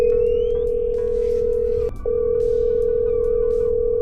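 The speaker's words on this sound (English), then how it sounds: "let's see if we can give him a call" A loud, steady telephone tone on an outgoing call that is left unanswered and forwarded to voicemail, holding one pitch with a brief break midway, and no voices over it.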